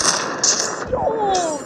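Rocket launcher blasts and gunfire boom in a Call of Duty match, loud bursts over a rumbling game soundtrack with a rising whistle, close and dense.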